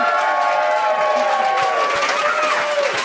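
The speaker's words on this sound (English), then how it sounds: "Folks, give a big round of applause" An audience at a live comedy podcast recording applauds the guests in a steady, dense clatter of clapping that lasts throughout, with some crowd noise and voices mixed in.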